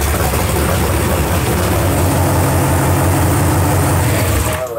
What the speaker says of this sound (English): Sounds like it's idling higher.